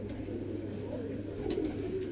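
A line-bred female pigeon coos softly in a loft in Allahabad, low murmuring calls that swell briefly mid-clip over a steady low background hum.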